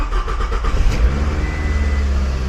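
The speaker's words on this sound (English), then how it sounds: "Are you trying to turn on the engine?" A manual-transmission car's engine turns over and catches, a brief cranking burst followed by a steady low idle rumble close by, running continuously without voices.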